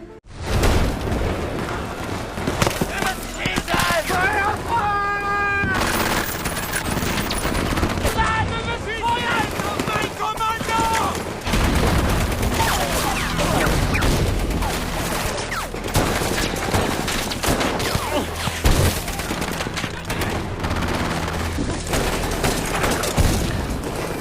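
Gunfire rings out in a World War 2 film battle between German troops and the Soviet army, with dense bursts of rifle and machine-gun fire mixed with booms, under continuous battle noise and talk.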